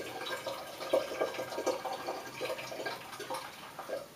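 Liquid being poured into the middle of a wine making vessel, a soft irregular splashing and trickling that stays close and moderately quiet, with small bursts of louder gurgling and no talk.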